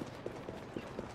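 Quick, rhythmic clip-clop of horse hooves in Assassin's Creed Syndicate, several muffled beats in a steady trotting pattern over faint background noise.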